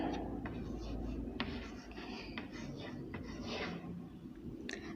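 Writing by hand on a surface during a maths lesson on numbers, with scratchy pen or chalk strokes in short bursts and a steady hiss underneath.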